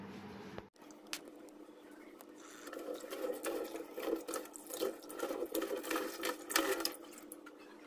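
Lentils, cashews and almonds being washed by hand in water, with close sloshing, swirling and splashing that starts after a short quiet moment and continues unevenly to the end.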